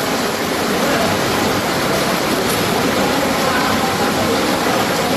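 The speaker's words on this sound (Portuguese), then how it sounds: "Em ladeiras, a água parecia uma cachoeira de lama." Muddy floodwater rushes down steep slopes after more than an hour of intense rain, a loud, steady broadband roar like a waterfall that continues without a break, with no voices.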